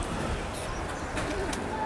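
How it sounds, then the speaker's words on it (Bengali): Pakistani high-flyer pigeons coo softly nearby, low, throaty calls over a steady background murmur. "আরেক জোড়া ডাবলা কবুতর নিয়ে চলে আসলাম"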